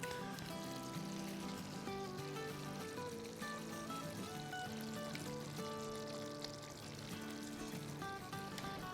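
About four tablespoons of water poured into a blender jar to rinse out a blended paste while cooking dahi wali chicken; a steady, soft pour sits beneath continuous background music.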